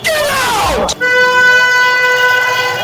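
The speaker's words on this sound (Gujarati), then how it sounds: "આને સમજાવ, હોર્ન માર્યા કરે છે." A loud vehicle horn blares close by, a short toot followed by a longer sustained honk over traffic noise.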